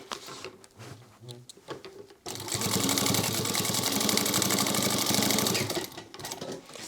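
A sewing machine top stitches a sling crossbody bag, starting after a few soft handling noises and running in one steady, loud, fast whir for about four seconds before slowing to a stop.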